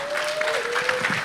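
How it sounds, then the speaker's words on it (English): Audience applause at a forum on African displacement, a dense steady clapping from a crowd, brief and fairly loud, with a tone running through it. "Let's give it up for incredible African women, please. A big round of applause."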